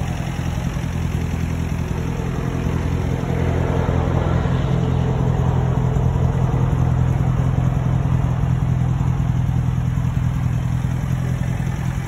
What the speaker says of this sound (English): You hear this motor. No weird sounds.